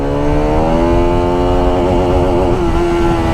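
A Pulsar RS200 motorcycle accelerating hard through its gears, the engine note climbing steadily in pitch, loud and close, with a brief dip near the end as a gear changes.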